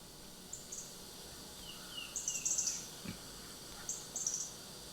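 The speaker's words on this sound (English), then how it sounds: "the first one is going to be obviously birds" Faint, high-pitched bird chirps come in short bursts, a few quick twittering phrases spaced apart over a quiet outdoor background.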